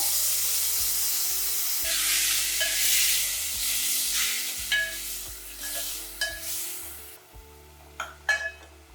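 Ingredients for tomato rasam sautéed in a pan: continuous sizzling with repeated spatula stirring and scraping strokes, fading into softer clinks and scrapes toward the end, with no talk.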